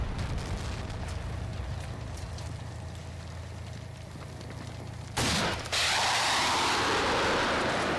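An artillery barrage falls on tanks in Combat Mission: Black Sea, a continuous rumbling roar of explosions that ends in a sudden, much louder blast followed by a sustained crackling roar.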